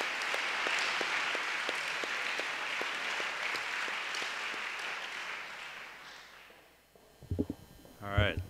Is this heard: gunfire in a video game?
no